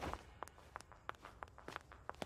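Quick footsteps in loud khaki shoes tap sharply and steadily at close range, sounding like a rapid walk or light jog over a hard floor against faint background noise.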